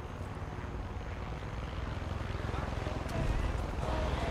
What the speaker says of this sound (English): I hear a chopper.